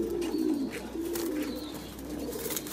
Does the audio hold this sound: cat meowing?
no